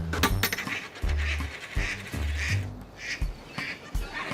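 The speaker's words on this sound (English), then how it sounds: "I think the duck is laughing at your wish." Duck quacking in a comedy game show setting, a run of short nasal quacks in an uneven rhythm, close and fairly loud, heard alone.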